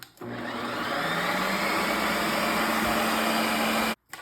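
A loud Ninja Creami ice cream maker switches on and runs with a steady, harsh whirring drone at constant pitch, then cuts off abruptly.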